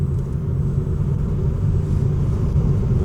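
A Tesla Model 3 Standard Range on 19-inch wheels accelerates, heard from inside the cabin as a steady, heavy low rumble of road and tyre noise with no engine note.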